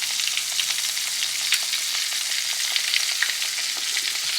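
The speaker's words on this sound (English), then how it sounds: "It's like anytime you're deep frying it anyway." Steady crackling sizzle of venison backstrap deep frying in hot oil, with constant bubbling hiss and small pops throughout.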